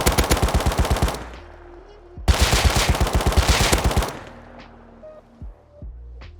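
Automatic gunfire from a new gun sound in the game Rust, loud and close, in two sustained rapid bursts separated by a short pause, then quieter clicks and handling noises.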